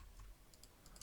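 A couple of soft, quick keypresses on a computer keyboard for a Ctrl+F shortcut while working in Tekla Structures steel-modeling software, faint and close with a quiet background.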